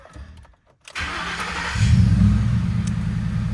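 A 2012 Ford F-150 truck engine cranks briefly after a short silence, then catches and settles into a loud, close, steady idle rumble.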